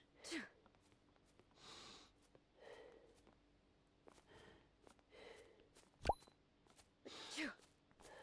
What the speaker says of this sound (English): I don't know why Peanut keeps sneezing.